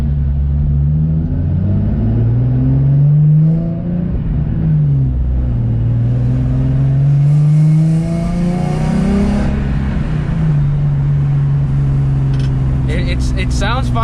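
Nissan 350Z engine droning from inside the car while driving, with harmonic tones rising and falling through light acceleration and shifts over a steady road rumble, loud and close, with a person talking over it at times.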